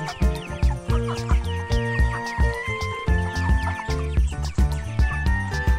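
Recorded chick and hen clucking and peeping repeats in short rhythmic bursts against a backdrop of tonal music, fairly loud and steady, with no talk.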